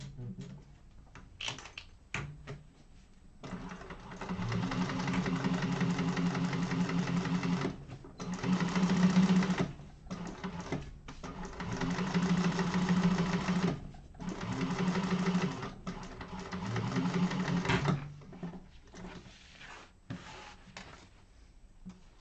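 Sewing machine top stitching a fabric bag through its lining, running in steady whirring bursts broken by short pauses, close and clear, with no talking.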